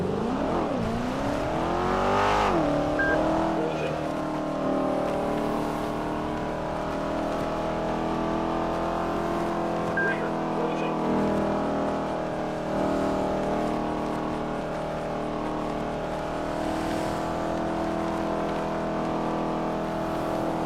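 Police cars drive in the GTA 5 video game, their engines revving up sharply at first and then settling into a steady, continuous drone with no talk.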